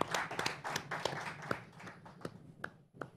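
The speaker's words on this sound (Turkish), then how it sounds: "Onun için de güçlü bir alkış rica ediyorum." A studio audience claps for the station owner on a Turkish folk music TV program, a moderate patter of hands that thins out toward the end.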